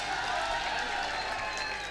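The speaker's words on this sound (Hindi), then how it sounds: "जोरदार तालियों से इस्तकबाल कीजिए" Audience applause at an election rally in Mustafabad, Delhi, a brief, steady spell of moderate clapping from a crowd with a faint murmur beneath.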